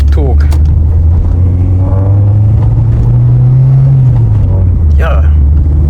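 A VW Citi Golf with a 1.4-litre four-cylinder engine drives along, its steady low engine drone and road rumble continuous throughout, with a voice talking over it.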